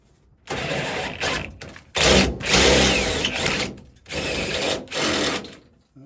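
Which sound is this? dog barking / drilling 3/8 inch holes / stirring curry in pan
drilling 3/8 inch holes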